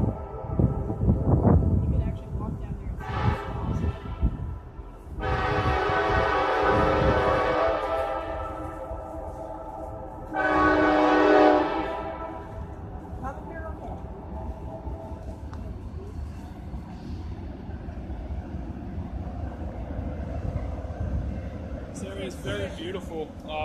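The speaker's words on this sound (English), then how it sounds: "Here comes the train." A train rumbles by at Harpers Ferry, West Virginia, coming through a mountain tunnel, while its horn sounds several loud, sustained blasts, one short and two long, before the rumble fades into the background.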